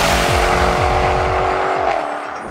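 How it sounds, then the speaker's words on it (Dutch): Supercharged Jaguar XE engine roaring loud and close, with rising and falling revs, a strong steady drone and crackling pops throughout, easing slightly near the end. "wat klinken dit soort supercharged Jaguars gewoon ontzettend goed. Het knettert, het brult, het leeft"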